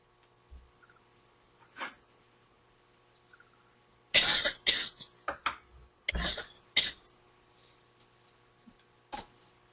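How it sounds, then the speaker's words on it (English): A few isolated coughs, then a loud burst of harsh, rapid repeated coughing fits, followed by a final single cough in a quiet room. "It's a nasty cough."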